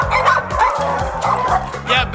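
Many dogs at a doggy daycare and training facility in a former bowling alley on Roosevelt Road bark, yip and whine in overlapping bursts, loud and continuous.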